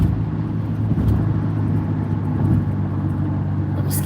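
Car driving on an expressway and slowly picking up speed, a steady, loud road and engine rumble that continues the whole time, with tire noise and no voices.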